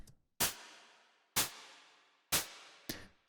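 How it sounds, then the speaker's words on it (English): Synthesized white noise hits with no effects, four dry bursts that strike sharply and decay over about a second, spaced on the offbeat with silence between. "To start with, we have just a simple offbeat noise hit."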